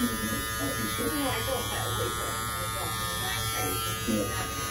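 An electric hair clipper buzzes steadily and close while cutting a bald fade, with someone talking over it throughout.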